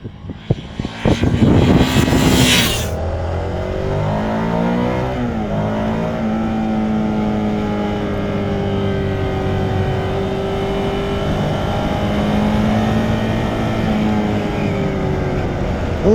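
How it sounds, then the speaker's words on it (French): A 2023 Ducati Scrambler 800 motorcycle on a highway in fifth or sixth gear accelerates, its engine note rising over steady wind roar after a brief louder rush at the start. "À noter quand même sur l'autoroute qu'en 5e et en 6e, autour de 100, 110, on a des très bonnes reprises."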